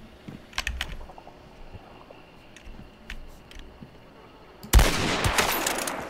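Gunfire in the video game Hunt: Showdown: a few sharp, scattered cracks with keyboard-like clicking, then a sudden loud blast that opens into a sustained, noisy burst.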